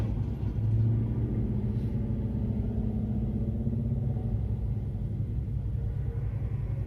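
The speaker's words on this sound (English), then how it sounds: "Sounds like a 6-cylinder." A six-cylinder car engine passing nearby on the road, a steady low rumbling drone that swells briefly early on and then holds evenly to the end.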